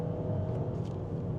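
An MG Cyberster Trophy car accelerating hard with its wheels spinning gives a loud, steady low engine roar and rumble that runs from start to end with no break.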